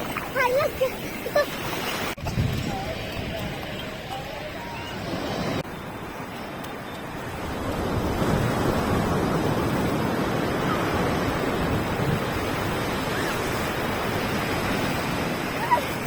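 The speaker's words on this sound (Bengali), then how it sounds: "বড় ঢেউ আসছে একটু দেখো" A steady roar of surf builds and washes continuously on the beach at Puri, with wind buffeting the microphone and a few faint voices early on.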